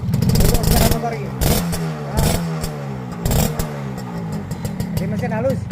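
A 1975 Yamaha RS classic motorcycle engine revs in repeated bursts, rising and falling with a clattery two-stroke edge, close by, while people talk over it throughout.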